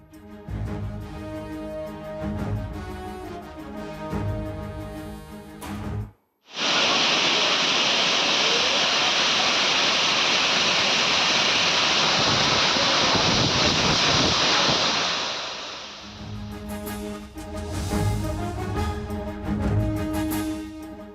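Heavy rain pours with strong gusting wind as a dense, steady roar for about nine seconds, loud and close, set between stretches of other sound.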